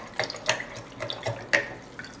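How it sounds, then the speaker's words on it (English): A paintbrush is swished and rinsed in a jar of water, giving several short splashy sloshes in an uneven rhythm. The sound is close and moderately loud, with no talking. "now I'm gonna clean my brush off in my jar."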